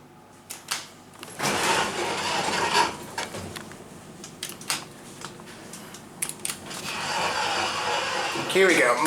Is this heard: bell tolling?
no